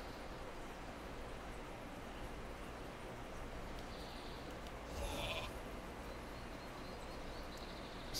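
A sheep bleats in a fantasy video game, the short call standing out once around the middle over a low, steady game ambience.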